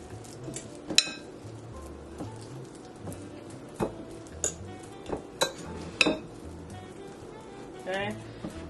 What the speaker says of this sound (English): just with a fork, just going to go ahead now and just mash this and kind of just make it as one